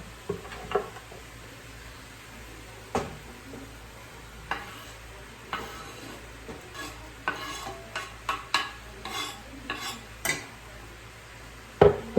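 A big onion tipped into a pot for spaghetti sauce, then stirred: sharp spoon scrapes and knocks against the pot repeat irregularly over a faint sizzle, close and clear with no talking.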